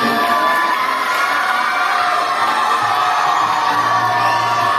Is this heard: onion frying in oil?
no